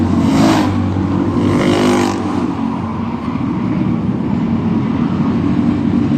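Engines roar loudly from Thunder Cars circling a track on the final lap of a race, a couple of bright passes early on over a steady rumbling drone.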